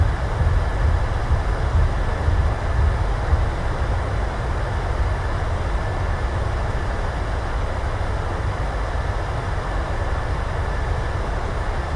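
Steady, loud broadband roar of a Boeing 737 rolling out after landing with thrust reversers deployed in a flight simulator, a constant rumbling rush with heavy low end and no voices.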